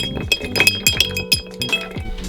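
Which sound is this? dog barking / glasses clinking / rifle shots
glasses clinking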